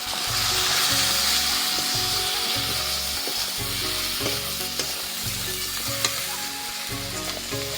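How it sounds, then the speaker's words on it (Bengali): Chicken with chili powder, salt and turmeric is stir-fried in a pan, giving a loud continuous sizzle with rhythmic scraping strokes of the spatula and a few sharp clinks. "এবার সব কিছুকে খুব ভালো করে কষাবো।"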